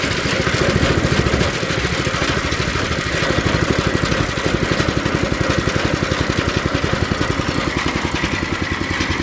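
A 5 horsepower two-stroke engine idles flat and steady, a loud, close, rapid puttering pulse that runs evenly throughout without speech.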